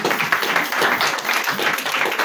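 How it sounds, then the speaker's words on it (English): Brief burst of dense audience applause in a parliamentary hall after a speech, many hands clapping at once at a steady, fairly loud level. "Another round of applause for the Deputy Clerk of the Republic of Sierra Leone"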